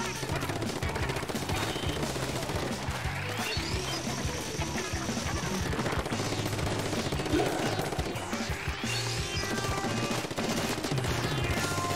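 A paint gun fires in Splatoon 2, a steady rapid stream of shots under game music and effects, with rising tones sweeping through the mix.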